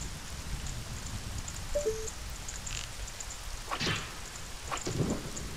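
Rain and thunder from the Zelda Ocarina of Time hack Gold Quest: a steady patter of rain runs throughout while low thunder rumbles swell twice, mixed with a few short game chimes and effects, no speech.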